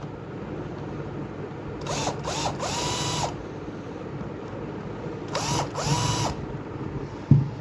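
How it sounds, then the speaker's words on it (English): Two short whirring bursts from a power screwdriver or drill backing screws out of a 50W LED light housing, each a few seconds long with rising and falling motor pitch, close and moderately loud over a steady background hum, with no talking. "first I will open this light."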